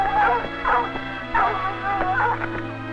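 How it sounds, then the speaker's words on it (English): Several hounds bark and yelp excitedly in rapid, overlapping bursts, close by, with whining cries mixed in. "The dogs try desperately to reach the cat"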